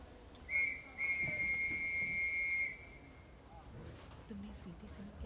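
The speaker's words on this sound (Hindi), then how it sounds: "तुमने सीटी सुनी क्या?" A sharp, shrill whistle blown once in a sustained blast of about two seconds, fairly close, with quiet background noise and faint movement afterward, in a Hindi-dubbed Hollywood film.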